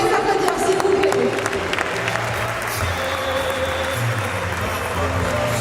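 An audience at a 2018 business founders' challenge event applauds, a sustained dense wash of clapping from a crowd that stays steady for the whole stretch.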